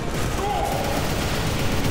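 Continuous gunfire in the shooter game Inversion during a co-op run, a dense rattling barrage of shots running throughout, mixed with faint voice chatter.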